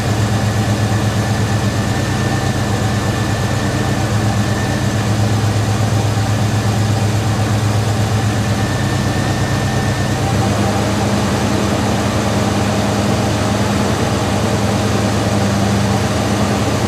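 A car engine with a divorced automatic choke settles into a steady idle after the throttle is kicked, a continuous low rumble with a faint whine that holds evenly throughout.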